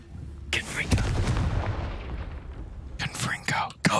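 A Confringo fire spell cast in Hogwarts Legacy lands as a deep booming blast that rumbles and decays over a couple of seconds, followed by sharper crackling bursts near the end, with a voice speaking briefly at the start.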